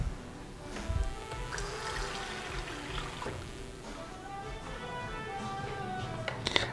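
Half a cup of water poured into a bowl of Persian shami mixture, a continuous splashing, gurgling pour with dripping, fairly close and moderate in level.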